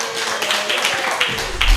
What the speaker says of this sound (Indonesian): Oke, tepuk tangan yang meriah buat Bang David